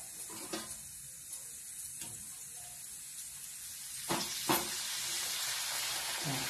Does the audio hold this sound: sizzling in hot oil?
yes